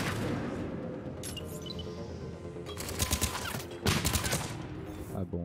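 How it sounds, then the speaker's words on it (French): Explosive grenade blasts from the Mass Effect video game, heard as sharp bursts of gunfire-like impacts, with two loud blasts around the middle and a smaller burst near the end over continuous game noise. "Grosse grenade."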